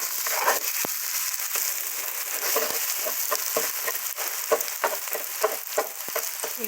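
An egg frying in a pan while making fried rice with rutabaga, with a steady close sizzle, crackle and scraping from stirring throughout.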